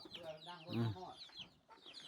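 Chickens clucking at an outdoor rural home in the evening, a few soft, quick clucks rising and falling over a couple of seconds, fairly near but quiet, with faint background voices.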